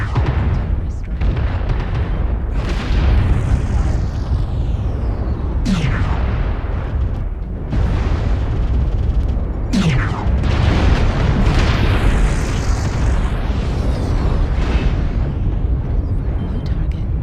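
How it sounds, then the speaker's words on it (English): Artillery strike in the MechWarrior Online video game, a continuous loud roar of booming explosions with sweeping whooshes of incoming rounds, dense and unbroken throughout. "Artillery strike."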